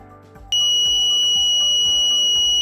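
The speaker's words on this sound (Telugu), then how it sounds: "ఎప్పుడైతే వాటర్ ఆ టూ వైర్స్కి టచ్ అవుతుందో అప్పుడు ఆటోమేటిక్ బజర్ సౌండ్ అయితే వస్తుంది" A homemade water tank full alarm kicks in suddenly with a loud, steady high-pitched electronic buzzer tone that continues without a break, preceded by a moment of faint background noise.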